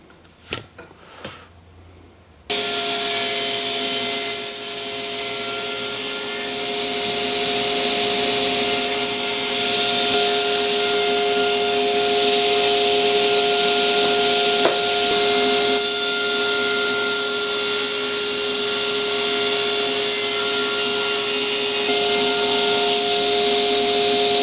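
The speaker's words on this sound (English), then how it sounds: "And now I can go to the table saw and cut the tenons." A table saw cuts wooden tenons for a wedged mortise and tenon joint: after a brief quiet start, the blade spins up into a loud, continuous whining hum with rough cutting noise that runs for about twenty seconds.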